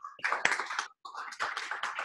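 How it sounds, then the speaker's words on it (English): A small audience at an Internet Society New York Chapter 20th anniversary gathering claps in scattered, close-sounding bursts, breaking off briefly in the middle before picking up again. "I would like a round of applause for Joseph"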